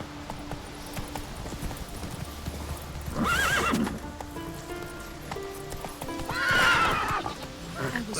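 Roach the horse from The Witcher 3 moving with clip-clop hooves and two loud whinnies, under a quiet game soundscape with occasional voices.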